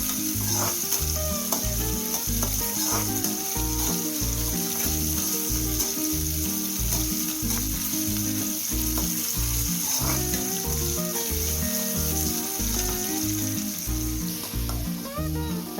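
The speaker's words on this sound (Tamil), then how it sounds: "தக்காளி நல்லா வதங்கணும்." Tomatoes fry in a pan for a Tamil fish curry, an even, unbroken sizzle that continues for the whole stretch under loud, rhythmic background music.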